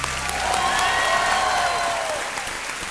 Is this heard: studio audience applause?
yes